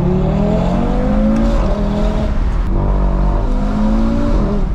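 An Audi RS3 engine drones loudly and shifts pitch continuously, rising and falling with rev changes, with faint crackling overrun pops on deceleration after a tune.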